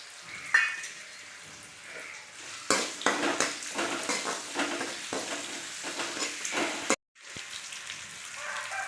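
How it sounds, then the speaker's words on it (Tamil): Onions and curry leaves sizzle in a pan for red aval upma while a spoon stirs and scrapes against the metal, with irregular clatters, steady frying hiss and a brief pause near the end. "நல்லா வெங்காயம் வதங்கட்டுங்க. கருவேப்பிலை போட்டுக்கலாங்க."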